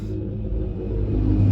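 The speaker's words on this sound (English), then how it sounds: "And you're never far away from a tractor in Cornwall" A tractor passes on a road in Cornwall, a low engine rumble that swells steadily as it draws nearer, moderately loud with no talk over it.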